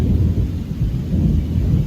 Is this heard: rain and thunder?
yes